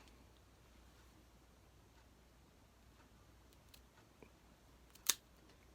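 A cutter snips the cap off a Partagas Toro cigar: one sharp, close snip near the end of an otherwise quiet stretch with a few faint ticks and rustles.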